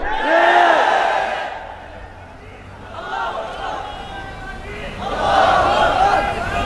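A crowd at a large Sunni religious conference in Bangladesh shouts in chanted bursts, loud and close, with surges near the start and again near the end and a quieter stretch in between.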